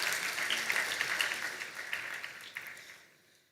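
Workshop audience applauds the host, a dense even round of clapping in a room that gradually thins and fades out over the last second.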